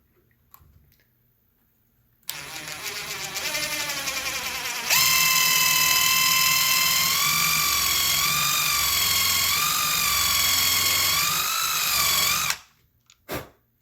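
A power drill bores a countersunk screw hole in a cabinet during assembly. It whines briefly at one pitch, then rises to a louder, higher steady drone with a slightly wavering tone, and stops abruptly near the end.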